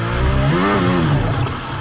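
Daniel Ricciardo's Formula 1 car roars through a quick downshift, its engine note sweeping up and then falling away as the car spins, heard loud and close without talk.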